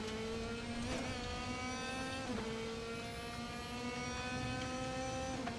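Race car engine in the VR sim racing game Raceroom, a steady loud high-pitched whine with harmonic tones holding pitch, dipping briefly at gear shifts around one and two and a half seconds, continuous throughout with no talk.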